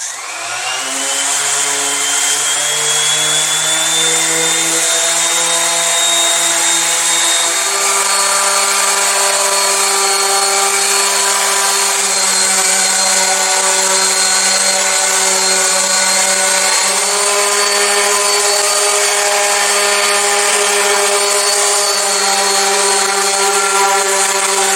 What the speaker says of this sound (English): We're going to be using our random orbit sander